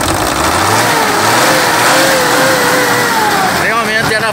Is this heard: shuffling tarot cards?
no